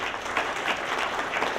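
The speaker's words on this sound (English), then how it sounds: "Give yourself a round of applause for that." A graduating audience at the 42nd Commencement of the International College of the Cayman Islands gives a sustained round of dense, even clapping from a large crowd.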